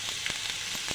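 Sliced radish fries in a pan with turmeric, salt and chili powder, giving a soft, steady sizzle with a few brief crackling pops over a second, faint and close, with no voices.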